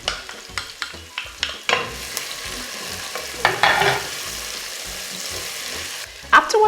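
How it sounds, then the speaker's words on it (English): Chopped onions hitting hot vegetable oil in a pot for jollof rice, a steady sizzle under a series of close scraping and stirring knocks from a utensil against the pot. "The chopped onions go in next. The sizzle."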